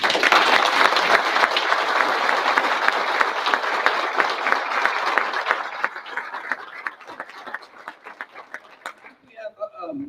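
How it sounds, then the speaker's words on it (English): An audience applauds Emma Foltz's family, dense loud clapping that thins out over several seconds into scattered claps, with voices starting up at the very end. "Have a round of applause."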